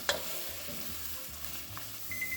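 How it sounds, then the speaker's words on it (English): Vegetables including carrots sizzle steadily in a pot while cooking down for black bean soup, with soft scrapes from occasional stirring and a small clink at the start, no talking. "we're just going to continue to cook these, stirring occasionally until these veggies are nice and tender"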